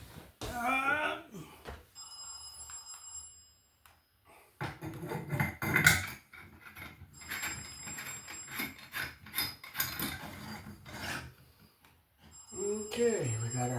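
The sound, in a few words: telephone ringing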